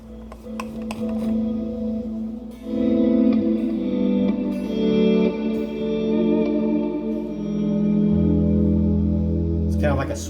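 Clean electric guitar chords ring out with a lush, washy reverb tail, sustained notes swelling and overlapping, moderately loud and close.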